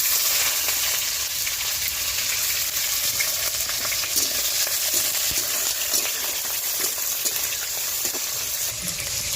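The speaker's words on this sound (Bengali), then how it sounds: "এদিকে মাছ ভাজা হচ্ছে" Tengra fish frying in a pan during village cooking, a steady dense sizzle and spatter that stays loud and even throughout, with occasional soft clinks and no talk.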